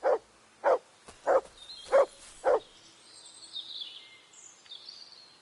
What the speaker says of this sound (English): My dog's barking at something.